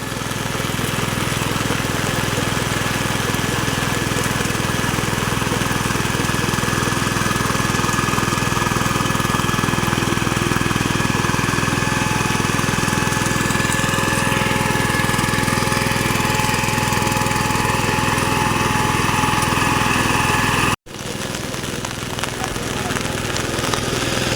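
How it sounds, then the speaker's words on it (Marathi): A tractor engine drones steadily and loudly throughout during rice planting in heavy rain, with a constant low rumble and mechanical vibration, cutting off abruptly near the end before resuming. "तुम्ही बघू शकतास की रविराजने ट्रॅक्टरची लाईट सुरू केलेली आहे"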